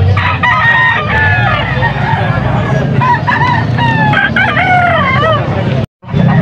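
Gamecocks crow repeatedly at a busy fighting-cock market in Pampanga, with several loud, overlapping cock-a-doodle-doo calls from different birds close by over a constant crowd murmur, ending in a short gap of silence.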